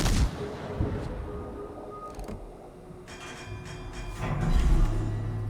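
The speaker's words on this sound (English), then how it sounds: "And 2 salvos, and he basically kills him from the outside." Naval warship game guns of the cruiser Tallinn fire salvos, several booming shots at the start and again near the end, with a hiss and rumble of shells between them.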